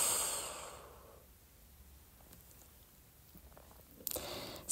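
Slow, soft exhalation during a relaxation breathing exercise, a close breathy whoosh that fades out over about a second, then near silence before a brief louder breath or rustle at the end.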